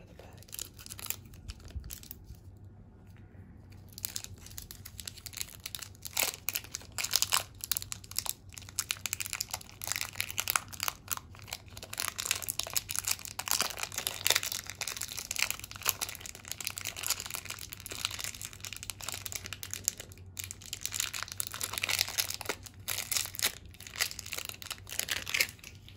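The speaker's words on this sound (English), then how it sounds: "So now I can just cut it and all the clay will come out of the bag." Scissors snip open a plastic bag of modelling clay in a quiet close-up setting, giving a steady stream of crisp crinkling and rustling plastic that continues throughout.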